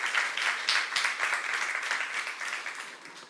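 A church youth congregation claps together during a sermon, a fairly faint but continuous crowd applause with a loose, pulsing rhythm.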